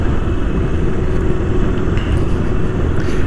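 Steady, loud engine rumble from a motorcycle being ridden through the streets of Nijmegen, a continuous low drone with wind noise and no talking.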